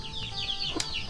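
Chickens cluck around a rural house in the early morning, faint, short repeated calls over a steady background with one brief sharper squawk.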